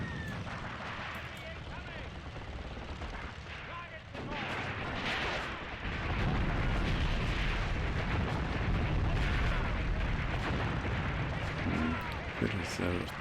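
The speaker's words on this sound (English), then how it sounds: "Artillery, mortars going to come in a wee bit further back as well" Artillery and mortar fire in the tank battle game Tank Warfare: Tunisia 1943: continuous rumbling barrage with repeated booms and dense gunfire, growing heavier midway, loud and close, with someone talking over it.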